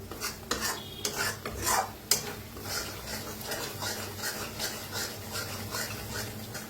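Matki masala with curd roasting in a pan for dhaba-style matki sambar, a soft steady sizzle broken by several sharp scraping and stirring strokes of a spoon against the pan, close and fairly quiet, no voices.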